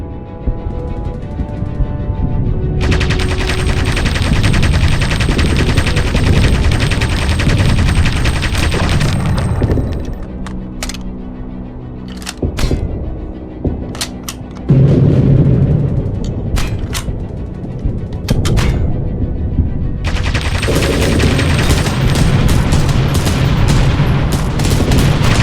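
Heavy gunfire and booming explosions from the Aviators video game, a loud sustained barrage with bursts of rapid shots and sharp blasts running through the whole stretch, no talking over it.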